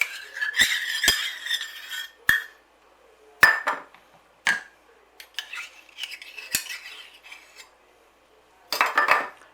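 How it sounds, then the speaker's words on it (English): A utensil clinks and scrapes against a bowl while cocktail frankfurts are mixed with barbecue sauce, irregular sharp taps and short scraping strokes close by with quiet pauses between. "Give it a good mix in together until it's all one colour."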